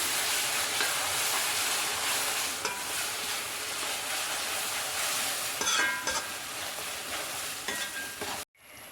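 Chicken curry masala being stirred and sautéed in hot oil, a steady loud sizzle with spoon scrapes running throughout, ending abruptly near the close.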